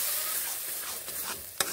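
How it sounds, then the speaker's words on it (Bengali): A mashed banana flower and lentil paste is stirred and sautéed in a hot pan, giving a steady, soft sizzle. A quick scrape or clack near the end breaks the sizzle. "এবার ভালোভাবে এগুলোকে এইভাবে মিশিয়ে একটুখানি কষিয়ে নেব।"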